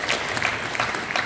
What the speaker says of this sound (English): big applause to this man for it.